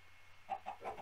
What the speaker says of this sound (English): Whoa, chickens.